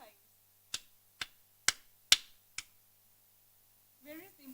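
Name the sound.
audience clapping five times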